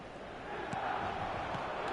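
Stadium crowd at San Siro in eFootball, a broad steady roar of distant fans with faint swells and scattered shouts, heard as a soft continuous wash.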